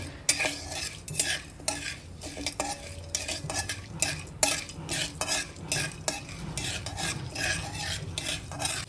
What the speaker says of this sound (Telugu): అలాగే కొద్దిగా మినప్పప్పు వేసి కొంచెం వేగనివ్వాలి. ఈ పోపు అంతా కూడా ఎర్రగా వేయించుకోవాలండి.